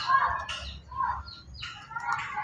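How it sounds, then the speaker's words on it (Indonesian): Young forest bird calling close by, a series of short raspy chirps and squeaky calls in quick bursts, loud and near, with soft murmuring in the background. "burungnya dekat ya, merasa nyaman ya, nggak takut sama saya"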